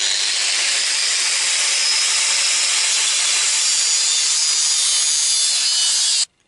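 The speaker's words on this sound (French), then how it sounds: "maintenant, il faut que je le découpe." A metal piece for a Citroën Traction 11B windscreen refit is cut slowly by hand, a steady continuous rasping saw-like scrape, close and loud, that runs unbroken for several seconds and stops abruptly at the end, with no talking.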